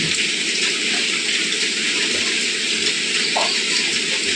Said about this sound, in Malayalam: ഇതാ ചെറിയൊരു ചാറ്റൽ മഴയോട് കൂടിയിട്ടാട്ടോ